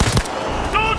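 Short bursts of gunfire in Cyberpunk 2077, loud and close, with voices shouting over the shots.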